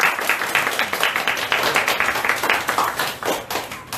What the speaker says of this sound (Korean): 우리 환영의 박수로 인사해 주시면